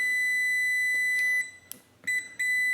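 Continuity beeper of a UNI-T UT60EU multimeter sounding a steady high tone that cuts out and restarts, with short gaps and a few clicks as contact breaks and returns.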